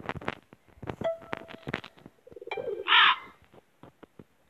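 Pet pigeons coo and call close by, with soft rolling coos, a sharper squawk and scattered flutters and clicks from the birds, loud and near.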